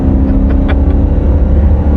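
A car engine with 206,000 miles drones loud and close in a steady low rumble, with a few brief higher flutters near the start and no talking.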